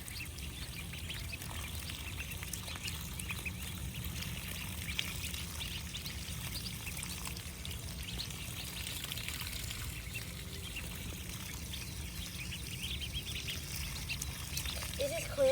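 A small backyard waterfall set up for chickens pours and trickles steadily, a constant soft splashing wash that runs unbroken throughout, faint and continuous, with occasional bird sounds nearby.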